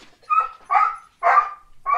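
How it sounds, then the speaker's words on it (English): Dogs barking in a Dwarf Fortress game scene where they play ball: four short, clear barks in quick succession, close and moderately loud, with nothing else around them. "The dogs are playing ball."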